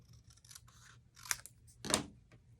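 Paper being trimmed for a handmade stamped card, a few short crisp cutting snips with one louder cut near the end, close and fairly quiet with no talk.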